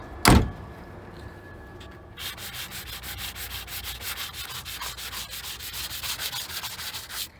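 Sandpaper rubs rapidly back and forth along the body edges of a Geo Prizm being prepped for repaint, a steady scratchy stroking rhythm lasting several seconds after a brief knock at the start.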